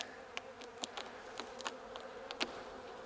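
Honeybees at an open hive hum softly and steadily, with several faint clicks and knocks from hive handling scattered over the low drone.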